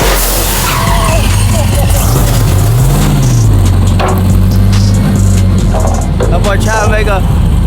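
A 1,500 horsepower burnout truck lays down a loud, close tire skid, its rubber screeching over a deep, wavering engine roar that rises and dips throughout, with voices talking over it.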